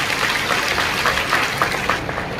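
An audience at a women's gathering applauds Aditi Tatkare, with dense, steady clapping from a large crowd filling the room at full loudness.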